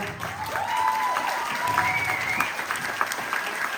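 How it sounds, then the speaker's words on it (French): Audience applauding at a children's judo belt ceremony during a judo-jujitsu school's end-of-year show, steady clapping from a crowd filling the room, with a whistle-like tone and some voices underneath. "on peut les applaudir bien fort"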